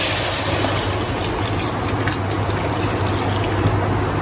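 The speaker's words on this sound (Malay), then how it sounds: "Okey, dan kita masuk air dalam ni ya." Water pours steadily into a pot while a Malay chicken curry is being made, a continuous close trickling splash with a low hum underneath and no pauses.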